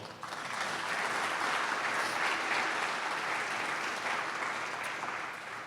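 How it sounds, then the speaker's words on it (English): A crowd at an announcement about a Mercedes-Benz Stadium and SEC title game partnership applauds Frank Poe, sustained even clapping from many people that holds steady before easing slightly at the end. "Please give a round of applause to Frank Poe."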